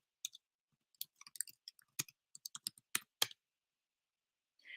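Clacky keystrokes on a computer keyboard while entering a plugin search term, a quick irregular burst of close, crisp taps with short pauses, and no voices.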